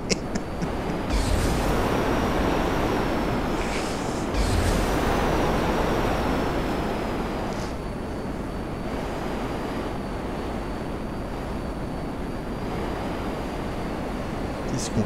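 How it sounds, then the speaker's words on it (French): A plane flying in GTA 5 gives a steady, loud engine drone with a faint high whine running throughout, the tone shifting slightly midway as the aircraft manoeuvres. "Il se contrôle bizarrement cet avion quand même"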